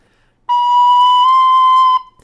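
Tin whistle sounds a single sustained C, played with the top hole half covered, a clear steady tone with bright harmonics held about one and a half seconds after a brief quiet lead-in.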